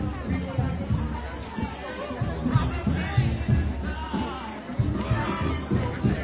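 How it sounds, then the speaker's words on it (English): A large crowd chatters at a street vigil in Minneapolis, a dense murmur of overlapping voices at close to mid distance, with nearby talk rising and falling over it. "this is a pretty large crowd"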